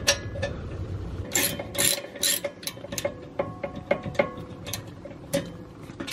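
A ratchet clicks as it loosens the 7mm rear brake caliper guide pins on a 2003-or-later Saab 9-3. The pawl ticks in close, uneven bursts with metallic clinks and short pauses between strokes.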